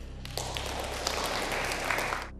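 A studio audience on a quiz show breaks into a short burst of dense applause, loud and steady for about two seconds before stopping abruptly.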